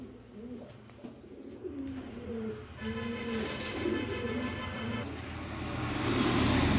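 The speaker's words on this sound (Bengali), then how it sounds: "হ্যাঁ দর্শক, এই হচ্ছে আরও এক পেয়ার কবুতর আফসান গিরিজেল।" A pair of Afshan Giri Jel pigeons, a male and a female, coo in repeated low throaty calls close by, with faint road traffic behind.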